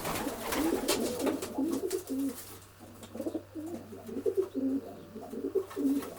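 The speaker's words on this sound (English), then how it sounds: "This is the scene inside George's old bird racing section" Racing pigeons coo repeatedly in a soft, rolling rhythm inside a loft section, close and fairly quiet over a low steady hum.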